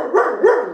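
A dog gives two quick, loud barks close by, one after the other, with no talk over them.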